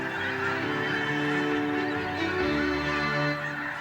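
Water birds calling in a marsh, with loud, overlapping goose-like honks forming a continuous chorus that stays close and dense throughout, with no talking.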